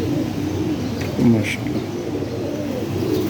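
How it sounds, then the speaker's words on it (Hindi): A pigeon coos softly in a pigeon loft, low and steady under a man's speech. "ये कबूतर इसका गुटक रहा है"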